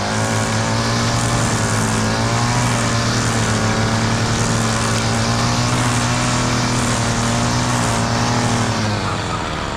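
A lawn mower cutting grass drones loud and close, its engine holding a steady, throbbing hum throughout with no break and no speech.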